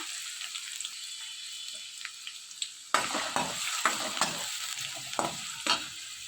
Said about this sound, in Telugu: ఇలా కొంచెం వెల్లుల్లిపాయలు వేగిన తర్వాత ఇందులో పచ్చిమిర్చి కూడా వేసుకోవాలి పచ్చిమిర్చి వేసుకున్న తర్వాత ఆనియన్స్ కూడా వేసుకోవాలి